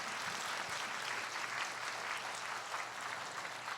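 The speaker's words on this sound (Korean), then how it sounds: "우리 박수로 한번 크게 격려해 주시면 너무너무 좋겠습니다" Congregation in a church clapping during a Sunday worship service, a steady, dense wash of applause sustained throughout at moderate, slightly distant level.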